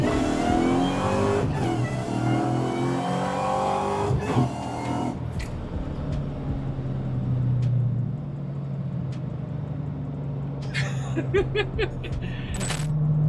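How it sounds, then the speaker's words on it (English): A 740-horsepower supercharged Fox Body Mustang accelerating hard from inside the car, engine revving up through gears with a rising roar then easing off, followed by faint clicks and jingles near the end. "you think we can give it a little bit of gas?"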